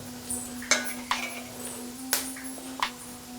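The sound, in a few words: stirring whole spices in hot oil in a pot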